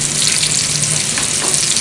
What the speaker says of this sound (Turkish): çok güzel kızarıyorlar